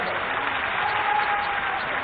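Loud, dense crowd applause fills an outdoor political rally held by Madhya Pradesh Chief Minister Shivraj Singh Chouhan at a ground-breaking ceremony in Gairatganj, Raisen. The clapping stays steady and continuous.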